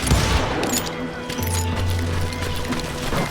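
Dense gunfire in a Wild West shootout from the video game Call of Juarez: Gunslinger, a loud continuous volley of overlapping shots and booms with a low rumble underneath.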